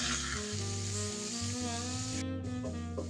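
Onion paste frying lightly in a pan, a soft, even sizzle running throughout beneath a low droning hum.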